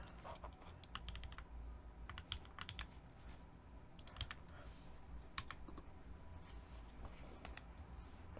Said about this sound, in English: It sounds like it's a keyboard